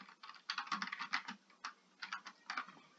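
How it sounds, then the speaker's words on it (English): Quick bursts of keystrokes on a computer keyboard, close and fairly quiet, tapping in short irregular runs with brief pauses between them. "Type up something random"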